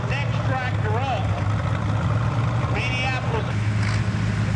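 A tractor engine drones with a steady low hum at an outdoor tractor pull, while an announcer talks over the rumble on a loudspeaker.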